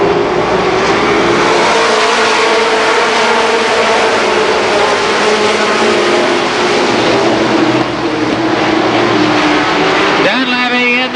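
Stock race cars at Columbus Motor Speedway roar away from the start after the pace car pulls off, a loud, dense, sustained engine howl close by with an announcer talking over it.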